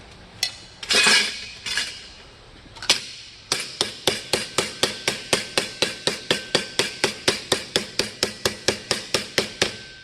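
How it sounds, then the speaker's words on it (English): A hammer beats aluminum armor plate flat on an anvil to remove dents: a few scattered blows, then a long, steady run of bright ringing metallic strikes at an even rhythm, close and loud, with no voices. "if you just want to do these flat on your anvil to get out the dents, that is just as good"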